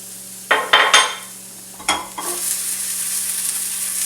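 Rinsed chiles fry in a pan for camarones a la diabla, with a few sharp clanks and scrapes from stirring early on, then a bright, steady sizzle that swells and holds close by; no speech.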